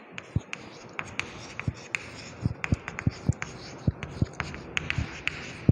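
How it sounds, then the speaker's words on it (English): Chalk or a marker taps and scratches on a board during a chemistry lesson, making a quick, uneven series of sharp close strokes over a faint room hiss. "So let me write here."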